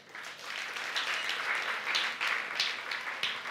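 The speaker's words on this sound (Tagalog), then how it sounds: "Parang kukunti ang pumapalakpak," A church congregation claps during a morning service. The applause is faint and sparse but continuous for several seconds, with no voices over it.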